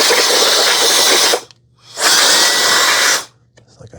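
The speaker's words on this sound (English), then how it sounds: "And then get the blower." A handheld air blower cleans the dock of a Dreame Aqua 10 Ultra robot vacuum and mop, roaring loudly in two close bursts with a brief pause between them and then stopping.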